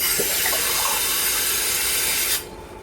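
Running water washing white cement with hardener off a surface, a loud, steady rush from a tap that stops abruptly near the end, leaving a faint background.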